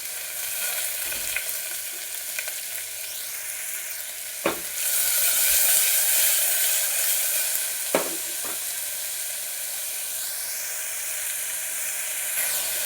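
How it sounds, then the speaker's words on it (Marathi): Two large chopped onions frying in a pan give a steady, close sizzle throughout, broken by a couple of brief utensil clicks, with no voices. "आणि आता कांदा टाकून घेऊया भाजायला।"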